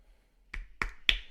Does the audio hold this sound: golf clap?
yes